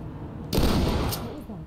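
A grenade or flashbang goes off in the tactical shooter game Ready or Not: one loud, sharp bang followed by a brief rumbling tail, with game audio in the background.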